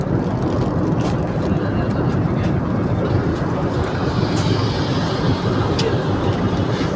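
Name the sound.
airplane cabin noise during flight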